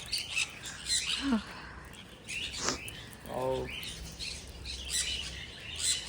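Caged birds at a mini zoo near Nandi Hills, Bangalore, let out scattered harsh squawks and short chirps at moderate distance over a faint, busy outdoor background.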